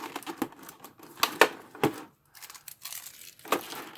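Tape peels and crinkles off a Kotobukiya ArtFX figure box in short, close, irregular bursts of tearing and crumpling, with a brief pause midway and no talk.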